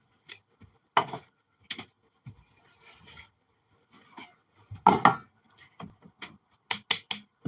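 Eggs with salt are whisked in a bowl, making sporadic, uneven clinks and taps of the utensil against the bowl, close and fairly crisp, with quiet gaps between bursts.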